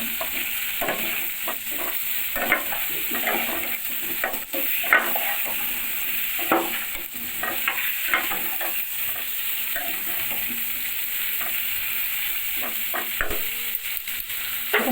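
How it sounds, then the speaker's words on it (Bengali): Cauliflower and potato frying in oil, a steady sizzle broken by repeated scraping stirs in the pan, close and continuous, with no voices. "এখন একটু ঢাকা দিয়ে ভালো করে ভেজে নেব।"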